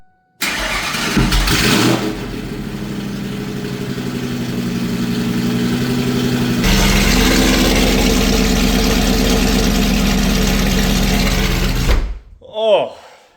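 A Ford Lightning pickup fitted with a new, loud Corsa exhaust fires up and settles into a deep, steady idle inside a garage, a continuous rumble filling nearly the whole stretch before cutting off, with a brief voice at the end.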